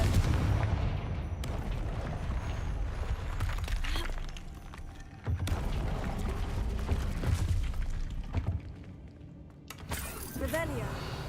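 Confringo blasting spells go off repeatedly in the video game Hogwarts Legacy, with several sharp bursts at irregular intervals over a low rumbling game background, and a voice briefly heard near the end.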